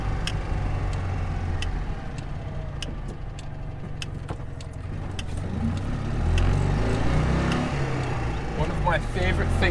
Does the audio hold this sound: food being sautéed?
no